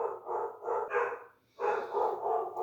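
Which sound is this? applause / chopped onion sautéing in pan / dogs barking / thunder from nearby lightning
dogs barking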